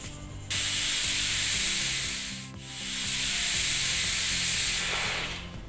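Steady broadband hiss of a pressure cooker venting steam while godi huggi, a sweet cracked-wheat dish, cooks; the loud, continuous rush dips briefly midway before resuming, with low clattering tones underneath.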